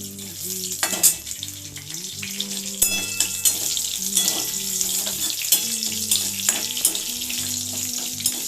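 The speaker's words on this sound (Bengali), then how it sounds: "এবার এতে আমি আরেকটু সাদা তেল দিচ্ছি দিয়ে দিচ্ছি দুটো তেজপাতা আর দিচ্ছি কাঁচা লঙ্কা" Bay leaves and green chilies fry in white oil in a pan, a steady loud sizzle and crackle with little pops throughout, and no voices.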